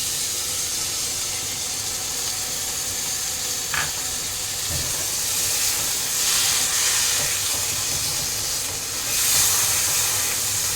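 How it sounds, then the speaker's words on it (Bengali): Water poured into a hot pan of frying poppy-seed curry on a gas stove hisses steadily in a loud, continuous steamy sizzle with faint clinks, no voices. "আমি পোস্তর বাটি ধোয়া জলটা সবটা দিয়ে দেবো"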